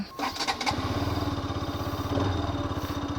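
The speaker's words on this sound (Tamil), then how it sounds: "வண்டியோட பீட்டே மெலோடியாக இருக்குல்ல நல்லா இருக்குது கேட்குறதுக்கு" Bajaj RS 200 motorcycle engine idling and revving up, a loud, close, steady pulsing exhaust note with a brief throttle blip at the start.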